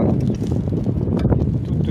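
Gusty wind blowing outdoors at the Corderie Royale, a steady low rumble buffeting the microphone throughout, loud and close.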